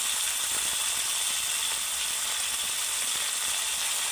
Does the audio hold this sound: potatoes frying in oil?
yes